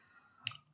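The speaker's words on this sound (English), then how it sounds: "The way we can do this is by right-clicking" A single crisp computer mouse right-click, quiet and close, standing alone against near silence.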